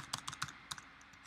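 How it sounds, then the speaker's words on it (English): Keys clack on a Mac computer keyboard in a quick irregular burst of taps that thins into a few lighter strokes, close and quiet, with no voices. "I was talking while typing."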